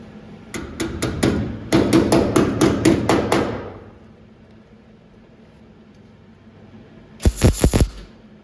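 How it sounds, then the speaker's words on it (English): A burst of sharp, ringing metallic hammer strikes on sheet metal of a 1958 Plymouth in quick succession, then quiet, then a few more loud clanging hits near the end. "And I will take my hammer."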